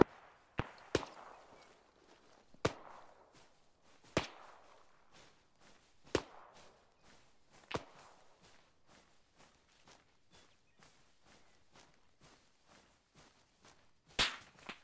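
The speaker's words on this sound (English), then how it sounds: "Shots from south. Copy, that's something heavy." Heavy gunfire from the south in Arma 3, a series of sharp, spaced cracks at irregular intervals, with a few louder reports over quieter background noise and no talking.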